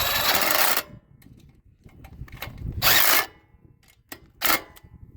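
A ratchet wrench turns the fuel tank bolts on a wood splitter in short clicking bursts, with quiet pauses between them.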